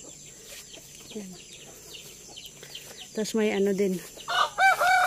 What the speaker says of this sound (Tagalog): Tapos may mga manok din dito.